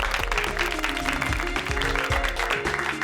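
Applause for children at a competition on a fantasy TV show, a busy burst of clapping mixed with music and other sounds, fairly loud and continuous for three seconds.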